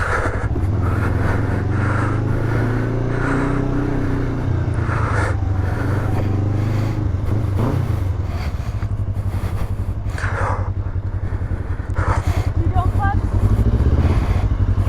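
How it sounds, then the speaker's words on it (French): A 2003 Kawasaki ER5 motorcycle engine droning steadily while riding, a continuous low rumble with shifts in revs, loud and close throughout with wind noise. "Une petite Kawasaki ER5 de 2003."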